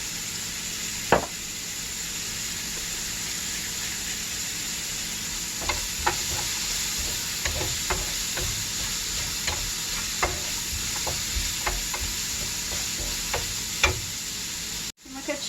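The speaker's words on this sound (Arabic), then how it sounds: "بعد ما شحرت الشامبينيو" Sliced champignon mushrooms seasoned with spice, salt and thyme sauté in a frying pan with a soft continuous sizzle. A utensil stirs and taps against the pan at scattered moments, with no speech.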